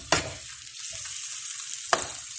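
Close-up sizzling in a pan as white pasta with chicken breast is mixed, with a steady fry hiss broken by two sharp scraping strokes of the utensil near the start and end; no voices.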